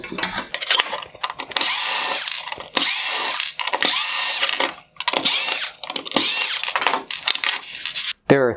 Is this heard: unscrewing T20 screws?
yes